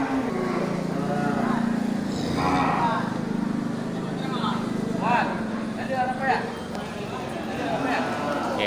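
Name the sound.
Aceh crossbreed cattle mooing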